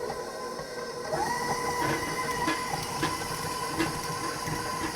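A stand mixer whirs steadily while beating garlic herb compound butter, a continuous motor hum with a faint rhythmic clatter of the beater.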